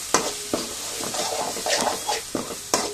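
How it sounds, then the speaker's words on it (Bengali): Ground cumin and spice powders stir-fried in a pan for a chicken curry, with a steady soft sizzle and several sharp scrapes of a spatula against the metal pan, close and alone. "জিরে গুঁড়ো, মশলা গুঁড়ো, একটু নেড়ে চেড়ে কষিয়ে নেব।"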